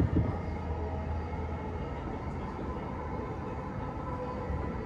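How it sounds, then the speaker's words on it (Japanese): A JR Joban Line train on the Ueno-Tokyo Line approaching Akihabara Station rumbles steadily at close range, a low continuous drone of wheels and motor with no talking. "列車は秋葉原駅に差し掛かります。"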